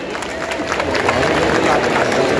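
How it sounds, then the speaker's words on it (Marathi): A crowd at a public event in Dombivali breaks into loud, sustained applause, a dense wash of clapping that swells slightly toward the end. "जोरदार टाळ्या होऊन जाऊ देत एकदा"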